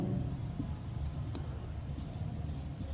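A pen scratches across paper in a continuous, close, soft scribble while a voice talks over it.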